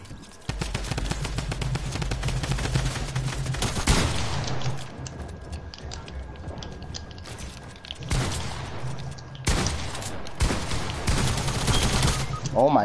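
Shotgun fire in a video game, dense bursts of loud gunfire and booms crowding the clip with brief lulls between volleys, under game noise.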